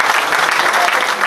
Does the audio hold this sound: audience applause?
yes